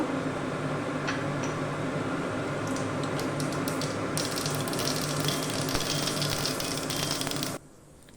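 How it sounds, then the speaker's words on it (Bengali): Mustard seeds sizzle and crackle in hot oil in a frying pan, a steady close frying hiss with scattered pops that cuts off abruptly at the end. "সর্ষে ফোড়ন দেব"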